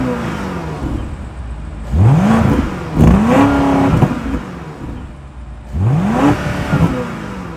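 The twin-turbo 4.4-liter V8 of a 2024 BMW X5 M60i is revved close up in three sharp bursts, each rising quickly and falling back to a low idle rumble.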